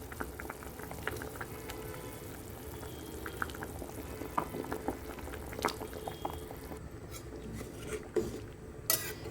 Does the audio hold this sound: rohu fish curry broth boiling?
yes